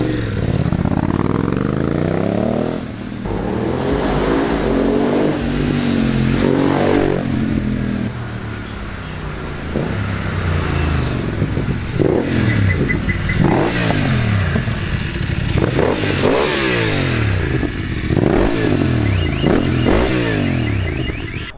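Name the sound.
BMW GS motorcycle revving with Dominator HP1 exhaust, decat pipe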